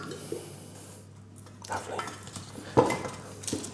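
Two butternut squash halves are set into a metal baking tray, making a few soft scrapes and one sharper clink against the pan amid quiet kitchen handling, with a faint voice in the background.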